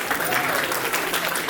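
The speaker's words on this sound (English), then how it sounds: "Let's give them a round of applause." A crowd claps for a devotional bhajan performance at a temple silver jubilee celebration, a short, even burst of dense applause heard close and loud throughout.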